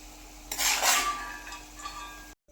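Fried cashews scooped from a pan of oil: a brief metallic scrape and clink of a spoon against the pan, close and short, followed by quiet.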